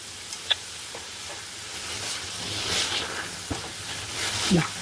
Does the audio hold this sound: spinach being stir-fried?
yes